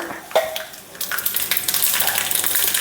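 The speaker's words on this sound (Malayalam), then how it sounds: "വെളിച്ചെണ്ണ ചൂടായി ഒരു അര ടീസ്പൂൺ കടുകിട്ടു" Mustard seeds dropped into hot coconut oil in a pan, starting quietly and then bursting into a loud hissing sizzle that builds and holds for the last two seconds, no talking.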